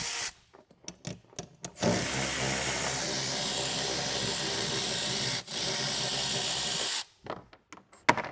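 A power tool removes bolts from the front bumper of a Tesla Model 3 Highland, running as a loud, steady whir for about five seconds, with short clicks and knocks just before and after.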